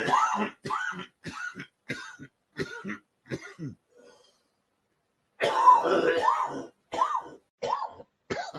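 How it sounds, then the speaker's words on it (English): A person coughs and clears their throat repeatedly, short harsh bursts close by, with a pause and then a longer rasping fit followed by more coughs. "So many coughs."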